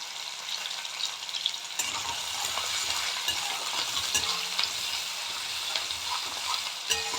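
Onion and capsicum sizzle while being stirred in a pan for mixed rice, a steady close frying hiss broken by occasional scrapes and clicks of the utensil against the pan.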